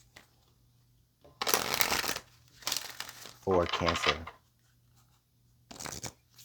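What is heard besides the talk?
tarot cards being shuffled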